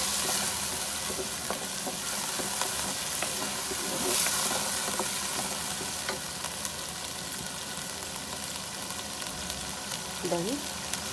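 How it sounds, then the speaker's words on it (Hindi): Keema masala sizzles and fries in a pan with salt and turmeric, a dense, steady crackling hiss throughout with faint stirring scrapes, close and continuous, no voices. "नमक, हल्दी, 5 मिनट तक मसाले को अच्छी तरह भून लेंगे।"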